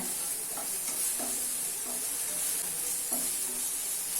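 Green masala is stirred into golden brown onions frying for chole chana masala, a constant close hiss of sizzling oil broken by several soft scraping stirs of the spoon against the pan.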